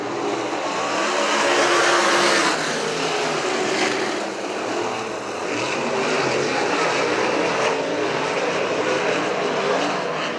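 Race cars roar around the oval at Butler Motor Speedway on a green-flag restart, a loud, continuous engine drone from the pack with no speech over it.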